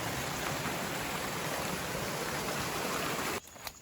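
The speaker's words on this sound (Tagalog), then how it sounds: "yung ingay ng agos ng tubig" A river flows on a mountain expedition trail in Ilongot country, a dense, continuous rushing wash heard close and loud, then cutting off abruptly near the end.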